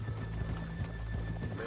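Horses clip-clop at a steady walking pace in the Red Dead Redemption 2 video game, with hoofbeats close and clear and whinnies mixed in over a continuous low background rumble.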